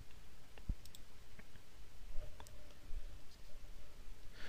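Sparse computer mouse clicks while working in a Google Docs presentation, a few sharp, quiet ticks spread irregularly over a low room hiss.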